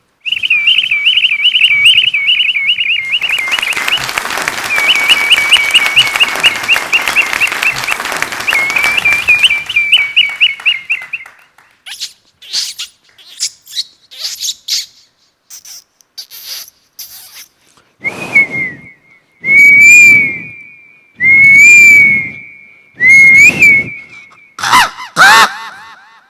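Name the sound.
mimicry of various bird calls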